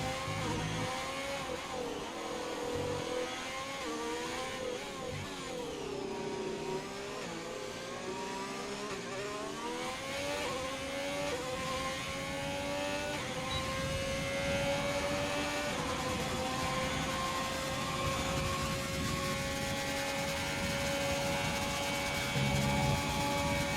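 An F1 2020 racing game car heard onboard for a lap of the Spanish Grand Prix: a steady high-pitched engine whine that rises and falls as it shifts through the gears, continuous and close throughout.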